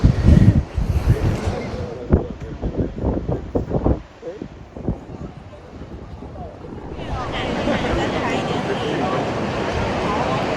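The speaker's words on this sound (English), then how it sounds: "A lot of wind out here." Strong wind buffets the microphone at a viewing platform on the Great Ocean Road coast, with heavy gusting rumble at first, then a lull and a steady hiss of wind and surf, with people talking throughout.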